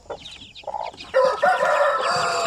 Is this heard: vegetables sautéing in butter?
no